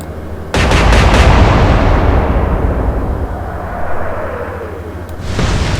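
The battleship Hood fires a heavy gun salvo in the Atlantic Fleet naval video game. One loud, booming blast rolls out into a long, decaying rumble, and a second report starts just at the end.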